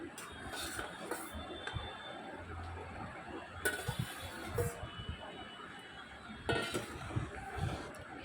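Prawns going into a pan of simmering mustard gravy, with a few soft clattering utensil taps and stirring scrapes, fairly quiet and intermittent.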